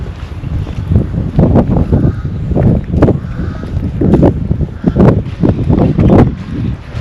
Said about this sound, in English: it's somehow windy out here too.